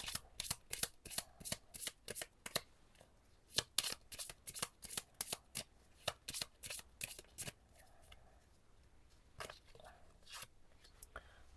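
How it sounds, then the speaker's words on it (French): Oracle cards being shuffled by hand, a long series of crisp, close riffling slaps in quick irregular bursts, with quieter pauses near the end and no talking. "je vous propose de se tirer une petite carte de chaque thème"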